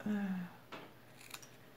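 Scissors snipping paper for a Stampin' Up! gnome pyramid craft: a brief low murmur, then a few faint, quick cuts, close and quiet.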